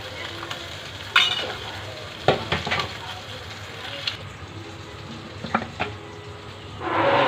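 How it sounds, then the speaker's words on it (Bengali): Koi fish frying in a pan, a soft steady sizzle broken by a few sharp clatters and scrapes of a utensil against the pan, with brief quiet voices. "আমার মাছ ভাজা কমপ্লিট"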